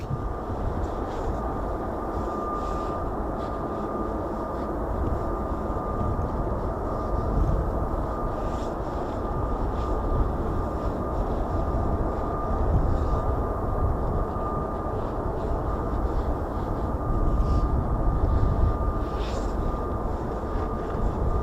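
F-35B fighter jet engines starting up at an air base, a steady loud broadband roar with a constant high whine running throughout, heard from a distance with no voices.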